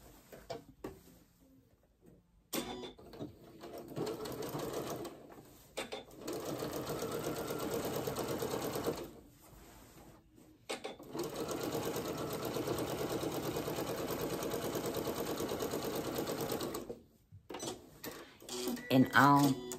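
A sewing machine stitching the seam of pajama pants, running in steady whirring bursts of several seconds separated by short pauses, close and clear, with a person talking faintly in the gaps.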